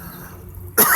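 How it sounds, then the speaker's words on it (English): A man clears his throat once, a short sharp burst near the end after a quiet stretch, close to the mic. "Clear my throat here"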